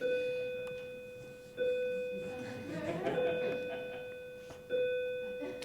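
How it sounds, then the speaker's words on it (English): A school bell rings with a sustained metallic tone that slowly fades and is struck again twice, moderately loud in a room with faint voices murmuring underneath. "Because I knew that the bell would interrupt."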